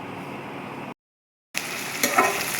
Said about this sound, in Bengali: পেঁয়াজগুলো একটু হালকা ভেজে নেব